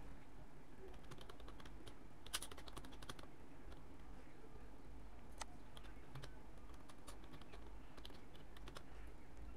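Quiet, rapid clicks from a computer keyboard as an address is typed in, irregular bursts of keystrokes over a low background hum.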